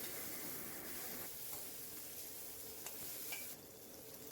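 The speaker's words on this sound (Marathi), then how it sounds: "टॉमॅटो नरम होईपर्यंत फक्त फ्राय करून घेणार आहे" Tomato, garlic and a slit green chilli fry in hot oil with a steady, faint hiss and sizzle, broken by a few light scrapes of a stirring spoon.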